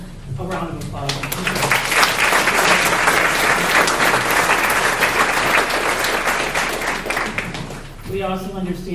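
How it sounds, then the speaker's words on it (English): Audience applause at a school district community workshop swells into dense, sustained clapping across the room, with a voice speaking briefly at the start and again as it fades. "Let's give a round of applause."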